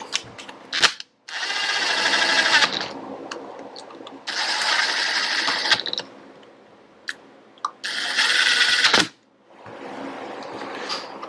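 A power tool on a low setting tightens a fastener on a Honda Mini Trail, running in several loud bursts of a few seconds each with short pauses between.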